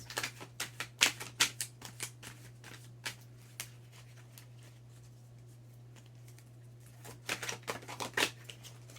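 Tarot cards shuffled and drawn by hand, giving soft crisp riffling flicks in irregular clusters, quiet and close, with a faint steady hum underneath.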